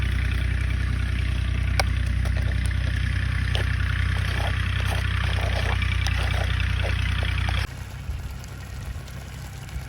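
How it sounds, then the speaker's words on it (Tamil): A steady, loud tractor engine drones continuously at close range, then drops in intensity near the end, as if throttled down. "உங்களுக்கு டிராக்டர் சத்தம் தான் கேட்க போகுது"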